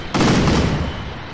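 A heavy burst of gunfire from a military jet-helicopter in Garry's Mod booms out loudly, then rumbles and fades into a lingering roar.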